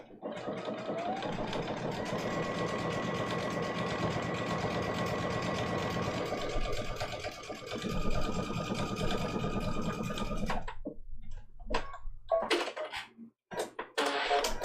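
A sewing machine stitches down small dots on a ladybug applique tiny quilt block, running in a steady fast whir for about ten seconds, then stopping into quieter handling noises and brief rustles.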